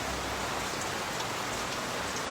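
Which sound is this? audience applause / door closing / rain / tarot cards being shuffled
rain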